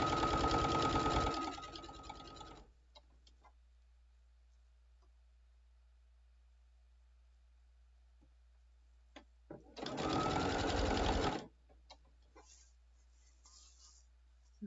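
A sewing machine stitching fabric for a bottle bag runs in two bursts, a fast steady whirring hum, then a long quiet stretch with a few faint clicks, then a second short run.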